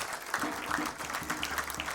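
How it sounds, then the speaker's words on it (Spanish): A church congregation claps for God during a Father's Day service, a steady spread of hands sustained for two seconds with faint voices mixed underneath. "Dele un aplauso a su Dios."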